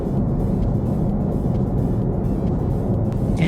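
Steady low road roar and wind noise inside a Kia EV6 GT cruising at highway speed, constant and unbroken, with no talking.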